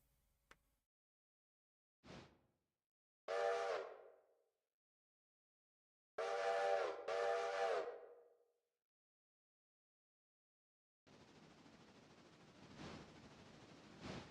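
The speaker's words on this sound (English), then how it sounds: "I hear another train coming." In the train game Railroader, an approaching steam locomotive sounds its whistle in separate harmonic blasts. A short toot is followed by longer, louder ones with silence between them, and a steady rushing, chuffing noise follows.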